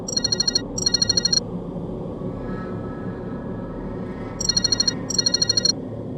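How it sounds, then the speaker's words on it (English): A mobile phone rings with a trilling electronic ringtone in two pairs of bursts separated by a pause. Each burst is loud and sharp over a steady low droning hum. "the phone rang again."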